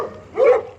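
A dog lets out a single short bark in the open, near and clear, its tone rising and falling within a second.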